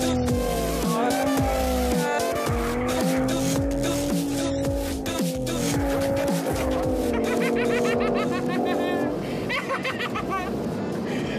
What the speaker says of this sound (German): Driftversuch Nummer 2 endet mit einem rauchenden Kunstwerk à la Malmedy